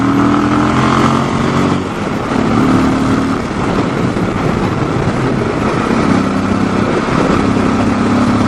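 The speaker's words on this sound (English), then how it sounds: "I really love the sound and the torque of the single cylinder" Yamaha XT 660 Z single-cylinder motorcycle engine under way, a loud continuous thrum with shifting pitch as the rider changes throttle and gears, heavy wind rumble mixed in.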